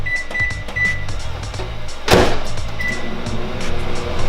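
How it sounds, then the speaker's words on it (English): A microwave oven hums steadily while heating coffee, with a few soft beeps, a brief louder knock or clunk midway, then continued even running. "I'm gonna get this in the microwave"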